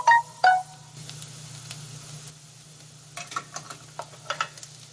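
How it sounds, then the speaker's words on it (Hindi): Onions frying in a pan on a medium flame, a soft steady sizzle with a few sharp scrapes and clinks of stirring at the start and again toward the end, close and moderately loud. "प्याज डालने के बाद इसको मीडियम फ्लेम पे ही पकने दें जब तक प्याज पिंक नहीं हो जाती है"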